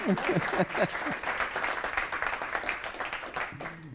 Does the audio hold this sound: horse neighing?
no